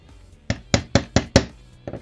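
A mag adapter is hammered into a GameFace Prime: five sharp, close knocks land in quick, slightly uneven succession, followed by one softer tap after a short pause, with no talking.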